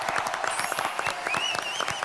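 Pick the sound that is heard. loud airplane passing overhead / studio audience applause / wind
studio audience applause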